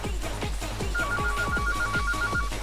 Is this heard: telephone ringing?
yes